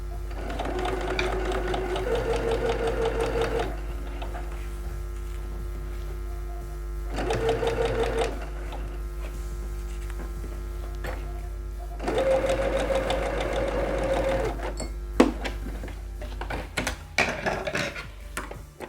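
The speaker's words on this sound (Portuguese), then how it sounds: "E vamos passar uma costura reta, tanto de cá para cá." A sewing machine runs a straight seam through felt in three bursts of fast, even mechanical stitching, with short pauses between them and no talk.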